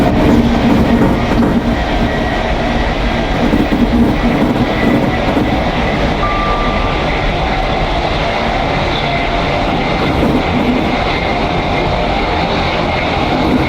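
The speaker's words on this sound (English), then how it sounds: "This train sounds incredible, honestly, it's spot on compared to the real thing" A Class 80X train runs in the British Railway video game, giving a continuous loud rumble and traction hum with faint rhythmic wheel clatter throughout, no voices present.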